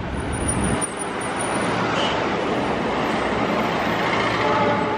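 Taksaka express train running past Jatinegara station on the Gambir–Yogyakarta route, a steady, loud broadband rumble of wheels on rail and rushing carriages that holds through the whole stretch without any talk.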